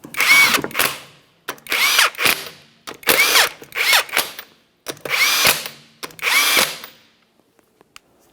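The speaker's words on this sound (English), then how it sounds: "continue on with installing all 5 of your 19mm lug nuts" An impact tool runs 19mm lug nuts onto a front wheel of a 2012-2015 Honda Civic: six loud, close bursts of whirring, rattling hammering, each about a second long, with short gaps between them, then quiet.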